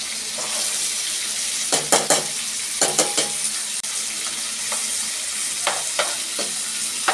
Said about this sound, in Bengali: আমি পাশ দিয়ে পেঁয়াজ, মরিচ আর রসুনটা একটু ভাজা ভাজা করে নিচ্ছি।